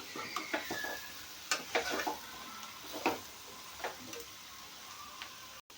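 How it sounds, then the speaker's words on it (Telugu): Chicken pieces being stirred with coriander powder, garam masala and chili powder for an Andhra-style chicken fry, giving intermittent scraping and clacking strokes over a faint sizzle, fairly close, with no one talking. "ఇప్పుడు మనం తీసుకున్న ధనియాల పొడి, గరం మసాలా, కారపొడి మొత్తాన్ని కూడాను చికెన్కి బాగా పట్టేట్టుగా కలుపుకోవాలి"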